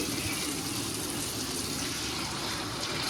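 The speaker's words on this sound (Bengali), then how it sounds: "এবার আমি আন্দাজ মতন জল দিয়ে দিচ্ছি" Water poured into a pot of simmering katla fish curry with young pointed gourd, a steady close gushing splash that runs unbroken and fairly soft, with no voices.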